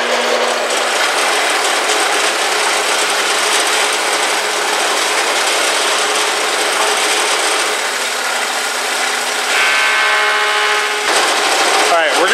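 A planer feeds a cupped wooden board through, a loud steady mechanical roar and rasp lasting throughout, shifting in tone near the end as the board exits, with some talk faintly underneath.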